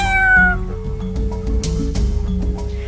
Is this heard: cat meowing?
yes